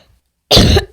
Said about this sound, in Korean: 이렇게 기침도 나고